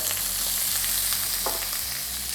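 Vegetables and boiled corn sizzle in a hot frying pan while a utensil scrapes and stirs through them, with a steady low hum underneath.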